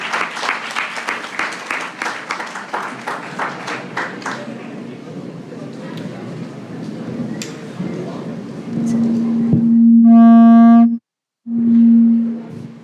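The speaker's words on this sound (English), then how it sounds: "Please have a loud round of applause." Audience applause for a jury member at a college short film festival, a burst of clapping that fades into crowd murmur before a loud tonal hum and feedback take over.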